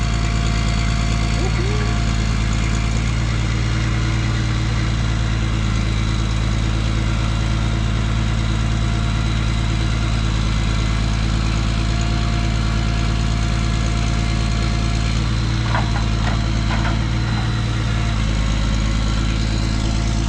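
Semi truck engine idling after delivering a load of logs, a steady loud low rumble with constant vibration throughout, close by and unbroken.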